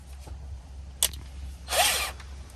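Harbor Freight power drill, heard in short bursts: a quick click, then a brief whirring run of about half a second over low background hum.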